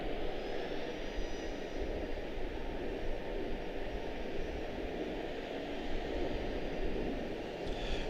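Airliner going around at Charlotte-Douglas International Airport, a steady, fairly distant engine roar held at an even level throughout, with no voices.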